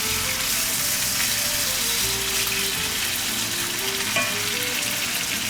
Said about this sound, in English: You just add it to the pan, to the hot oil. And just fry that up.